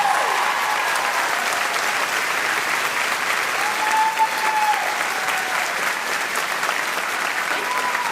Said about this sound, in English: Give a huge round of applause to two very amazing individuals